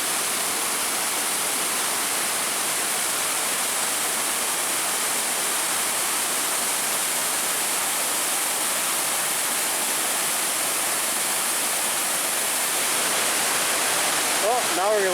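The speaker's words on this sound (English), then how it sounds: "This is really an awesome waterfall." Loud, steady roar of a waterfall beside a small bridge, a dense broadband rush holding constant from start to finish with no talk over it.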